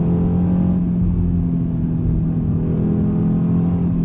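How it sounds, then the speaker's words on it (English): A 2018 Audi RS3 Sportback's five-cylinder engine drones loud and steady from inside the car on the autobahn, a strong low hum running continuously without a break. "that 5-cylinder sound is just, it's so recognizable"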